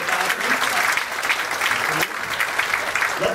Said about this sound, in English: give a round of applause over there,